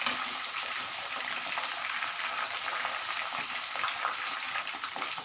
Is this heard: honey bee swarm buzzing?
no